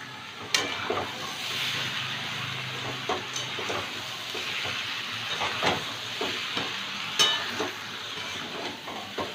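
Ridge gourd sautéing with salt in a hot pan hisses softly and steadily, broken by scattered scraping and clicking strokes of a spatula turning the pieces, with no talking.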